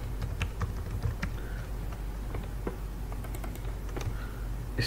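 Data being typed on a computer keyboard in Microsoft Excel, a steady run of light clicking keystrokes at moderate distance, heard alone without talk.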